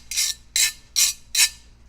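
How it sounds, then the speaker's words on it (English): A guiro, the Dominican merengue scraper, is rasped in four even strokes, each a bright, hissing scrape about a quarter second long with short gaps between, close and clear with no voices. "So the guiro just sounds like this."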